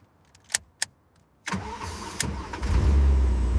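Engine of a Back to the Future time-machine car replica starting: a few clicks, then the engine catches and settles into a loud, close, steady rumble that builds toward the end, with no talking.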